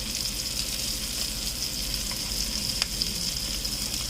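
Butter sizzles and spits steadily in a hot pan around seared salmon fillets, a close, continuous frying hiss with faint crackles and no talking.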